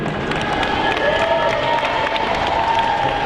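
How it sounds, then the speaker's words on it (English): A crowd at a Tahitian dance competition applauds and cheers, steady dense clapping mixed with voices at a moderate distance, continuous for the whole stretch. "How about a round of applause for these two?"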